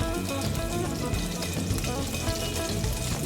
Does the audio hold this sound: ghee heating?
yes